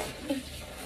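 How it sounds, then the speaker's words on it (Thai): Hands being washed under a running tap, a steady, soft rush of water with a faint splash partway through, fairly quiet and continuous with no talking. "ล้างมือนะคะ"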